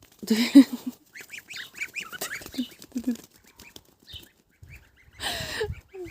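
Goslings honk and peep in short bursts while grazing, several calls overlapping, fairly close, with quiet gaps between the calling.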